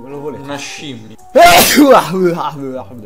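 A single loud, sudden sneeze bursts out in the middle of Italian speech during a Pokémon Yellow gaming session, and talk continues right after it.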